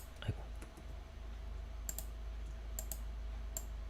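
A computer mouse clicks sharply several times at a steady pace over a quiet room hum, with one softer tap near the start.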